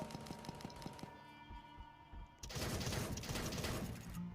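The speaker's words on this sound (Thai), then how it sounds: "เหมือนต้องยิงซอมบี้อย่างเดียวเลยใช่ไหม" Rapid gunfire from shooting zombies in a base-building video game, a quick run of close, clipped shots followed by a dense, noisy burst of continuous fire and action.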